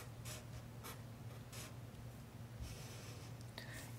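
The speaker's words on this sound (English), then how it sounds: "But I'm going to draw a rectangle pot" Pen or pencil drawing a rectangle pot shape on paper, heard as soft scratchy strokes in short bursts of varying length over a steady low hum, close and quiet, with no speech.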